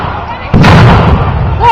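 A tank firing a blank round at a World War II reenactment, one loud, close booming blast that stays heavy and rumbling for over a second.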